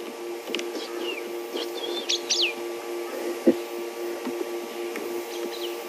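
Several short, rising whistled calls of a Kurrichane thrush over a steady mechanical hum, fairly faint, with a couple of softer calls later, on a safari drive.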